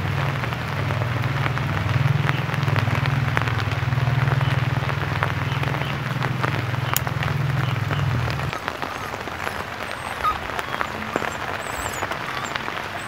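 Heavy rain pours steadily onto a vegetable garden in Nha Trang during the flood season, a dense close hiss of drops with a low droning hum underneath for the first two-thirds that then cuts out.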